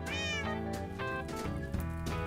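Two magic cats meow in the video game Minecraft, drawn-out tonal mews repeating in close succession, loud and near with no voices over them.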